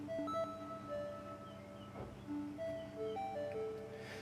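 A Dixie oscillator module in a modular synth patch, routed through Clouds. Soft, faint tones step between pitches like a sparse melody over a low, hazy textural drone.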